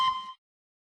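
A single short ocarina sample plays back in Audacity as one clear, pure tone lasting about a third of a second before cutting to silence.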